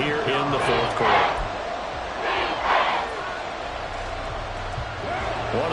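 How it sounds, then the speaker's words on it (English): A football stadium crowd at a Saints versus Falcons game roars and cheers ahead of a big third down, a broad sustained wash of voices swelling in waves, with a commentator speaking over it. "The crowd getting into it as we come up on a big 3rd down."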